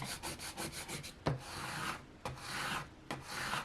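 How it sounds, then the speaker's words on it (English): A squeegee scrapes a vinyl decal down onto a plastic lid in repeated rasping strokes, close and steady, with a couple of sharp knocks between passes. "now I'm gonna take my squeegee and just scrape it all down"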